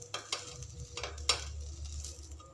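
A rice-flour breakfast cake crisps on both sides in a pan, making a quiet close sizzle with a few soft taps and scrapes of a utensil against the pan.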